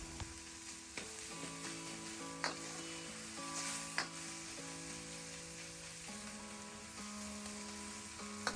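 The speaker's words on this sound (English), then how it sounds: "Break it up with your spatula and cook it until it's brown and starting to crisp up." Pork mince sizzles in a pan while a spatula breaks it up, giving a faint steady hiss with occasional scraping taps. A background tonal hum sits under the frying, with no talking.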